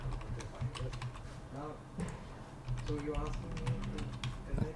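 Keys clatter on a computer keyboard in quick bursts while a name and password are entered, close by, with a voice talking over the typing.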